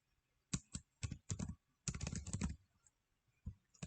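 Computer keyboard keys clatter in quick bursts of typing, close and crisp, with short pauses between clusters of keystrokes.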